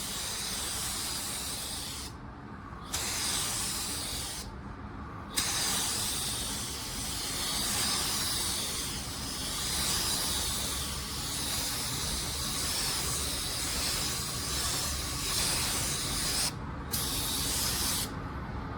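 A spray gun lays a second coat of car paint on a panel, a loud, steady airy hiss that cuts off briefly between passes and resumes in sustained bursts.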